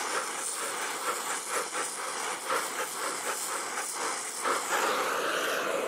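A cutting torch preheats thick steel with a steady, loud, close roaring hiss that stays even throughout and has slight pulsing, with no speech.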